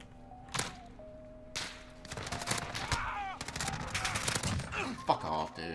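MP5 submachine gun fire in a Call of Duty Modern Warfare online match, fitted with attachments and red and gold tracers, sounding as scattered bursts and single shots over roughly six seconds, mixed with game effects and a voice.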